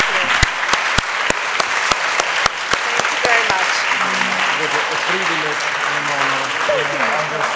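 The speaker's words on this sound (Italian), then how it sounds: "un applauso per fare coraggio a Meryl Streep" Applause for Meryl Streep at a press conference for the film Mamma Mia!, sharp camera-shutter-like clicks at the start over continuous crowd clapping, with voices talking beneath the applause in the second half.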